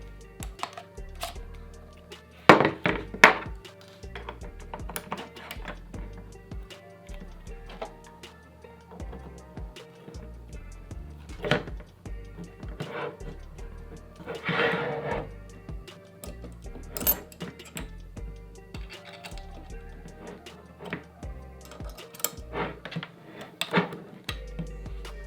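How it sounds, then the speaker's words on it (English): Camera rig being assembled with NATO rails: scattered sharp clicks, snaps and light metallic taps come in irregular bursts over a quiet background, close by, with a few louder clustered knocks near the start. "using NATO rails, this is how quick you can get your rig set up."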